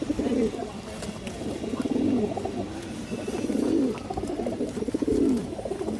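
A green-necked female pigeon coos in repeated low, rolling phrases, about four close, fairly loud bursts at an even pace over a soft background.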